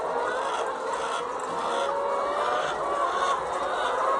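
Many laying hens cluck continuously in an automated layer poultry cage farm housing about 30,000 birds, a dense steady chorus of fowl with no speech.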